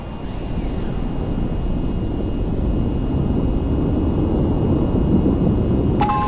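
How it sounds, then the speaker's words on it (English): In the flight game VTOL VR, a jet aircraft rolls down the runway at full throttle, producing a loud, steady engine roar that holds constant throughout, with a brief electronic beep near the end. "Now to take off, raise the throttle to full and steer to keep aligned with the runway."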